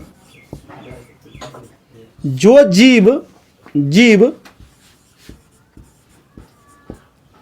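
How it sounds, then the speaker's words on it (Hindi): Scratchy strokes of writing during a class 10 biology lesson sound as short, close taps and rubs. A voice sounds briefly in the middle. "चलो इसको लिखे हम लोग, तो लिखते हैं"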